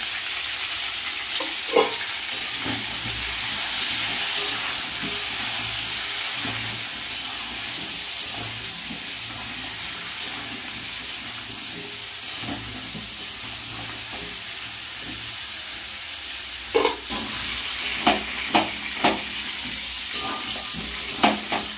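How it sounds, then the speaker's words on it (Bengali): Potatoes and pointed gourd fry in oil with salt and turmeric, giving a continuous steady sizzle with occasional louder stirring scrapes and clatters toward the end. "আলু আর পটল কিন্তু ভালো করে ভেজে নিয়েছি"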